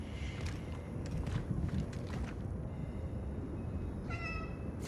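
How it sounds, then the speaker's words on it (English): A cat meows repeatedly from behind a locked door in the video game Cronos: The New Dawn, the cries sounding close and fairly clear over a steady low ambient rumble, with a brighter meow near the end. "I thought I heard a cat."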